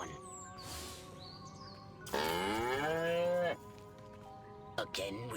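A cow in the video game Destroy All Humans! gives one long, loud moo in the middle, set apart from quieter game sounds before and after.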